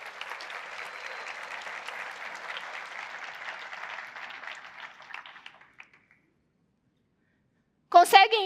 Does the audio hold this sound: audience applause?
yes